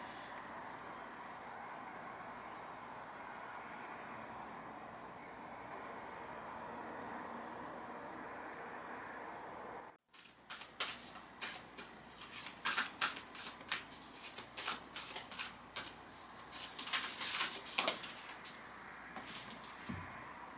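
Oracle of the Unicorns cards shuffled and drawn after a yoga class, a quiet steady hiss giving way to a run of crisp riffling snaps and slaps, close and alone.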